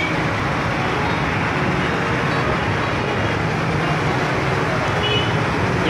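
Morning road traffic near a metro station in Lahore makes a dense, continuous roar of cars, buses and trucks, steady and fairly loud throughout.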